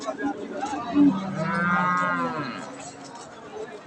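Bullocks at a busy cattle market before Eid, with one long, loud, close moo rising over a background murmur of people talking.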